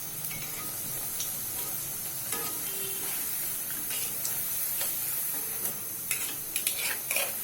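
Mug pakon pitha frying in hot oil and being flipped over in the pan, a steady close sizzle with a few sharp clicks and spatters toward the end.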